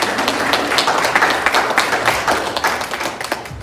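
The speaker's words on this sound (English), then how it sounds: "Y'all can clap on that." Audience applause, a steady patter of many hands clapping at moderate distance, dense and continuous, tapering slightly toward the end with no voices over it.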